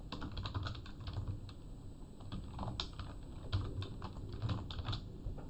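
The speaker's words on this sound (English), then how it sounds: "So I'll type that out." Fingers tap out a run of quick, light keystrokes on a computer keyboard while working a practice exam problem, with steady close clicking over a low background hum and no speech.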